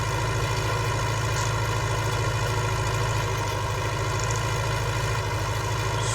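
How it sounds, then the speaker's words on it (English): A tractor working a field while drilling winter wheat, its engine running at a steady, loud, even drone with a constant low throb and rumble, unbroken throughout and with no voices. "This tractor working a whole lot better since we had the service done."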